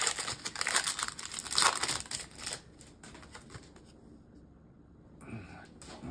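A Pokemon Crown Zenith booster pack wrapper crinkles loudly for a couple of seconds as it is torn open close by, then fades to quiet handling with a brief soft rustle near the end.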